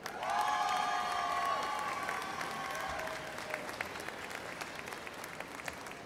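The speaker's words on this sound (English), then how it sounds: "a round of applause for the baccalaureate graduates from the College of Arts and Sciences" Graduation ceremony crowd applauds the graduates, clapping and cheering loudly at first, then tapering to sparse, fainter claps heard from a distance.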